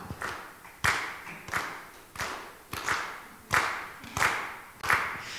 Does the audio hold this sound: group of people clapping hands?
yes